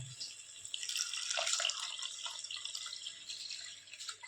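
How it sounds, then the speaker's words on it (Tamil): Water splashing and trickling into a pot of egg biryani masala, a steady bright pour lasting a few seconds with no talking. "இப்போ நான் இந்த மசாலாவுக்கு தேவையான தண்ணி சேர்த்துக்கிறேன்."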